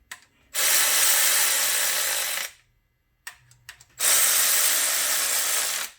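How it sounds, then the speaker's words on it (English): A hand ratchet clicks rapidly in two long bursts while tightening bolts during a rear main seal replacement on a 2002 Chevy Suburban, close and loud, separated by a short pause with a few faint taps. "Make sure everything threads in before you tighten them down."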